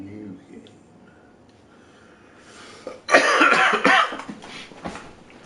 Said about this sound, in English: I can't get rid of this fucking cough for the life of me.